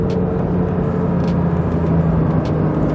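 A Porsche 992 GT3 engine roars loud and close in a steady, dense rush with no voices over it.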